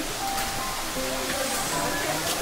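Water pours down at Wah Caba Falls on the way to Cherrapunji, a steady, broad rushing roar that fills the scene close by while people talk over it.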